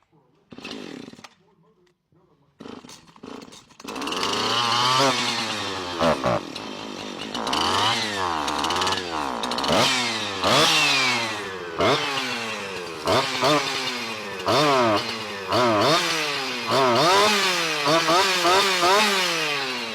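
An older Husqvarna chainsaw, just refueled after a repair, sputters briefly, then fires up and revs loudly and repeatedly up and down at close range.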